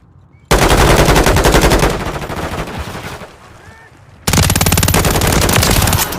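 Video game gunfire during a friendly-fire incident: loud, rapid automatic bursts that come in two long volleys with a quieter stretch between them.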